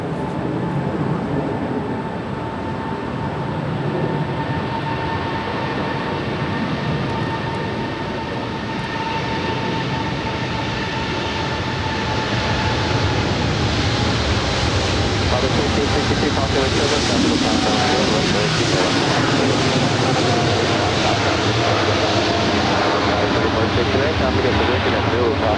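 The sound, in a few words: EVA Air Boeing 777-300ER jet departing LAX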